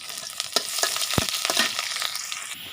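Onion, garlic and dried red chili frying in hot oil, crackling steadily up close, with a few quick stirring scrapes and one sharp knock against the pan.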